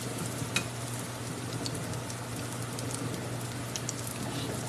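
Pinto bean cakes frying in a hot pan give a steady close sizzle with scattered small pops and crackles throughout, no voices over it.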